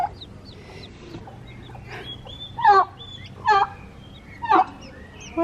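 Pet fowl named Kiwi clucking and squawking close by, three loud bursts spaced about a second apart over a low background hum, with softer calls in between.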